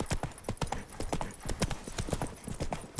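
A horse galloping in the video game The Witcher 3 (next-gen update), with a steady run of close, loud clip-clop hoofbeats in quick rhythm and no talk.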